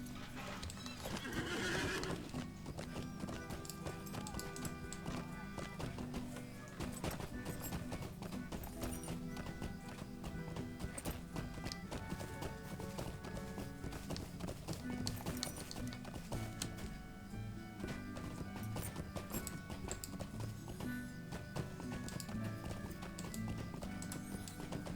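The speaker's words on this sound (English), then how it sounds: "Where's the horse? Let's get a horse here." Horse whinnies and clip-clopping hooves in the online game The Lord of the Rings Online, a steady loud stretch of hoofbeats with neighs, set against a dense game music and ambience bed throughout.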